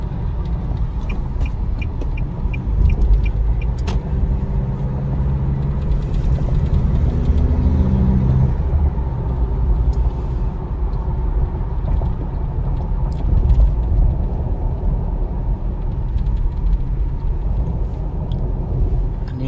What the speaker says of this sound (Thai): ถ้าสมมติเราจะแซงนะครับ นี่นะครับ รอบชูดขึ้นไปเลยนะครับ